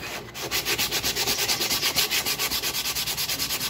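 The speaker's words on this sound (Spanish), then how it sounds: "Entonces empezó a lijar." Up close, someone rapidly sands a wooden shoe heel part by hand, making a steady rhythmic rasp of quick back-and-forth strokes with no talking.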